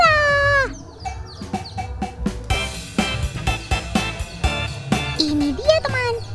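Polish chicken chick peeping in high, rising chirps, close and repeated in quick bursts, with other clucking fowl around and a voice talking in the background.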